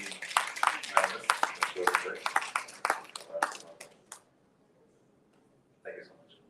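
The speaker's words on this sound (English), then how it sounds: "Let's give a big round of applause for our esteemed members." Applause from an audience for the members of a book-launch panel, a burst of claps lasting about four seconds that stops abruptly, then a brief spoken phrase.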